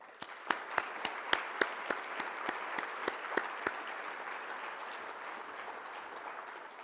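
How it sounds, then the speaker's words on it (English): A small audience at a merger celebration gives a round of applause for care providers, with a few loud, distinct claps standing out over a softer spread of clapping that fades gradually. "I'd like to just give them a round of applause"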